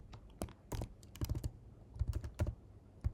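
Keys clatter on a computer keyboard in quick, uneven bursts of close, crisp clicks with brief pauses, quiet and alone with no talk.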